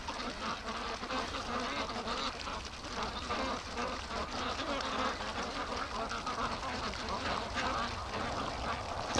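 Muscovy ducks on a lake make soft, scattered quacking and fowl calls over a constant outdoor wash of background noise. The birds are moderately close but not loud, and the sound continues unbroken throughout.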